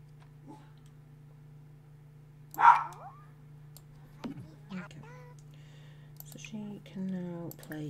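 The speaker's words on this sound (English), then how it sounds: "Bloody doggo can't stop bloody barking" A dog barks once, fairly loud, amid household clatter and a steady hum, with a few short child-like vocal sounds following in a busy home with twin babies.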